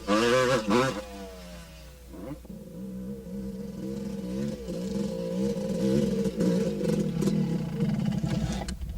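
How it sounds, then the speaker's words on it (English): A motocross motorcycle engine idles and revs through slow wheelies with the back brake holding the bike near vertical. Close and steady, its pitch rises and falls in smooth waves, with no talk over it. "I'm just doing some slow wheelies. I'm using my back brake to keep the bike in a very vertical position."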